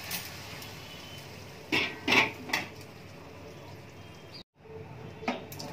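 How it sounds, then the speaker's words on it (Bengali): Pot clinks and scrapes from stirring khichuri into a spice masala, a few brief metallic knocks close by against a steady low background hum. "এবার আমি ভালো করে খিচুড়িটাকে মিশিয়ে দেব মশলাটার সাথে।"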